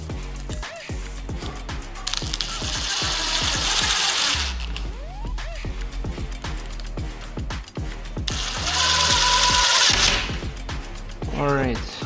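Screws are driven into an IKEA sink base cabinet during assembly, with two sustained bursts of a whirring power driver among clicking, ratcheting and clattering handling noises, and some talking.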